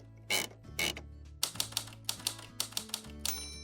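Steady, rhythmic key clicks on a Mac keyboard tapping out at a quick pace, close and fairly quiet, after a couple of heavier thumps, with no talking.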